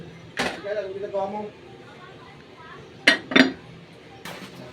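A metal lid is set back onto a cooking pot of ginataang gulay with shrimp, giving sharp clanks near the middle and one more at the end, with softer kitchen clinks and brief voices earlier.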